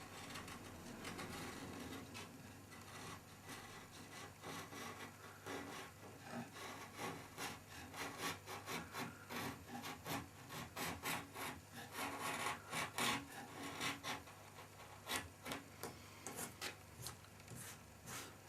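Chiselling and scraping along a solid-core molded carbon wing mould, a long run of dense rasping scrapes and short strokes, close and fairly quiet, building in intensity toward the middle, no speech.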